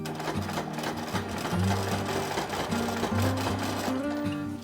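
A sewing machine runs steadily, stitching a zig zag seam on a grid quilt, its rapid mechanical chatter close and continuous with slight shifts in pace.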